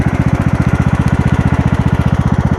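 Small motor mounted on an old lawnmower converted into a seed and fertilizer spreader, running close and loud with a fast, even putt-putt pulse and no pauses.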